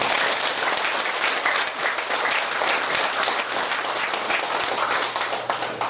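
Warm, sustained applause from an audience at a Korean Hyo academy commissioning-style graduation ceremony, many hands clapping densely and steadily at close range for several seconds.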